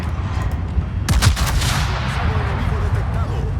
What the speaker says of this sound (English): This is where he gets a pretty good salvo on us.